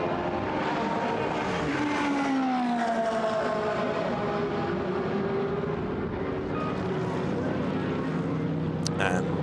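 GT race cars pass along the Paul Ricard circuit during a Blancpain GT Sports Club qualifying session, engines rising and falling in pitch as they go by, with a commentator talking over the steady motor noise.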